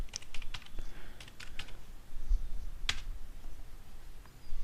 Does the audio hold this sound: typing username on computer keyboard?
yes